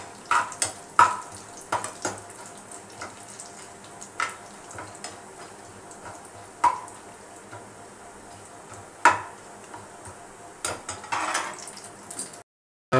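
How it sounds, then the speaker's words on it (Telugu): Almonds fry in hot ghee with a faint, steady low sizzle, broken by scattered clinks and scrapes of a spoon against the pan, and the clip goes quiet just before it ends. "కొద్దిగా ముందుగా బాదం పప్పుని వేయించుకుందాం"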